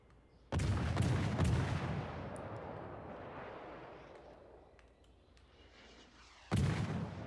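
Warship guns in World of Warships Legends fire two heavy booming salvos, one early and one near the end, each a loud deep blast that rolls off into a long fading rumble, with no speech.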